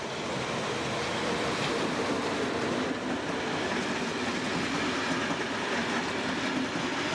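Steady rushing roar of a Deutsche Bahn locomotive hauling a mail express train as it passes, a constant broadband rumble with faint wheel clatter, no voices.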